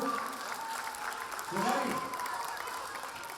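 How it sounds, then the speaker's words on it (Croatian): A children's concert audience claps in a brief burst of applause, fairly faint and distant, while a presenter's voice speaks over it. "Aplauz za Lukajocu"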